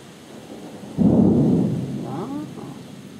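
Thunder during a rainy thunderstorm in Karlskrona: a sudden deep rumble bursts in close and loud, rolls on for about a second, then fades into a softer grumble over steady rain and background noise.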